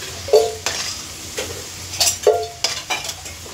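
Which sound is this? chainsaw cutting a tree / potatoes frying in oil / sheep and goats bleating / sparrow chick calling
potatoes frying in oil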